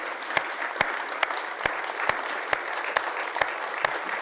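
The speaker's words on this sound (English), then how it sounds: "Let's give a big round of applause to Anderson, Ursula, and Rodolfo" Steady audience applause for panelists at an award event and panel discussion, a continuous bright wash of many hands with a few sharper claps standing out at fairly regular intervals.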